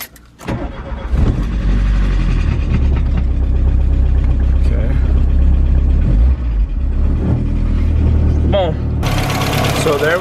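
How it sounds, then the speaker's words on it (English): An MK1 Volkswagen Cabriolet with a newly installed timing belt, water pump and alternator, sitting unused for weeks, cranks and fires up, then settles into a loud, steady idle close by, with a voice briefly heard over it. "I haven't started this car in like 3-4 weeks."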